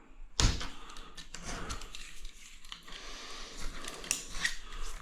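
A sharp snap opens a run of close, scratchy cutting strokes as a new blade slices through material during a grout job, with light irregular scrapes and taps and no speech.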